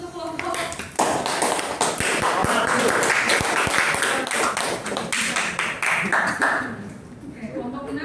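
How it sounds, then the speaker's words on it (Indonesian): A class audience claps for a student group that has just presented, a dense burst of applause filling several seconds before thinning out, while a voice speaks over it. "Tepuk tangan dulu untuk kelompok."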